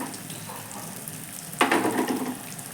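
Homemade paneer pieces hit a hot pan at about 1.6 seconds, setting off a sudden loud sizzle that crackles on steadily after a quieter stretch of low kitchen noise.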